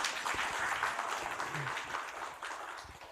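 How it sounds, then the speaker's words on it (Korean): Soft, steady applause from an audience at a Korean exam-prep lecture for crop damage assessors, a dense wash of clapping heard at a distance that tapers slightly toward the end. "가장 멀리에서 오신 익산에서 오신 분에 의해서 박수 한번 치겠습니다"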